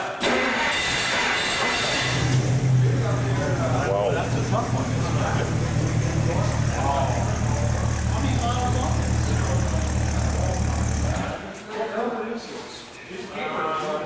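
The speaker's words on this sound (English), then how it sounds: "Now, this is a cold engine." A cold Chrysler 300 engine idles at a 2009 club meet in Branson, Missouri, with a loud steady low rumble that starts after a couple of seconds and cuts off near the end, heard under nearby talk and crowd chatter.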